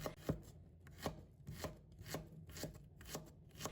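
A knife slices a piece of peeled fresh ginger on a cutting board in a steady rhythm of about eight crisp, close chops, with quiet gaps between them.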